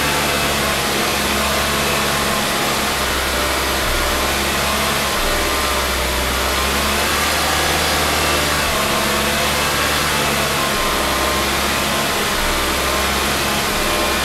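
A Mazda CX-9 2.5 turbo engine held at a steady elevated idle with a little gas to keep it from stalling, a loud continuous drone with a broad hiss and no talking.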